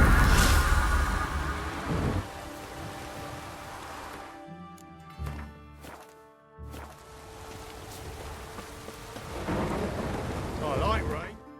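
Heavy rain falls in The Witcher 3: Wild Hunt, a steady hiss of downpour broken by loud thunderclaps and deep rolling rumbles that fade and return.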